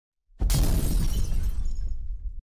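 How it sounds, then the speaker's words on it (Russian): A single loud, heavy explosion bursts in abruptly, with a deep rumbling roar and crackling debris that holds for about two seconds before cutting off. "Например, какой-нибудь взрыв."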